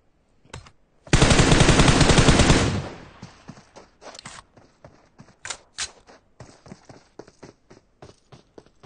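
Video game gunfire in a competitive battle royale scrim: a sustained automatic burst, then a scattered series of sharp single shots and short volleys, crisp and close.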